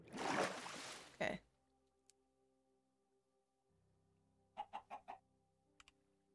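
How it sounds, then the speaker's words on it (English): A chicken in Minecraft gives a short run of four quick clucks, faint and alone against a quiet background, after a player speaks. "Why is there a chicken?!"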